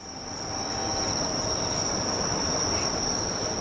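Summer crickets chirping in a Japanese film: a steady, high, continuous trill over a broad, even hiss of ambience, moderately loud and unchanging throughout.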